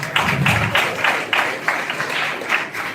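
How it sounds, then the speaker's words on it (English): Audience clapping at a college orientation program, a steady patter of many hands in a hall lasting the whole span with no talk over it. "Give a big round of applause to sir."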